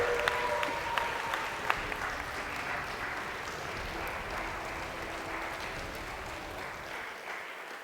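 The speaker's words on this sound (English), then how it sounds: "Can we get one last final big cheer from everyone for everyone who's competed in the tournaments up until this point, here and at home." A crowd at a LAN gaming tournament final claps and cheers steadily for several seconds, a dense sustained wash of applause that gradually tapers off at the end.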